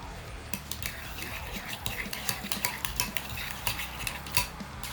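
Guacamole being mixed in a bowl with a utensil, a steady run of soft scraping and clicking strokes close up, with no talk over it.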